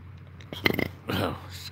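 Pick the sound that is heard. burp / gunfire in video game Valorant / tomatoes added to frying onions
burp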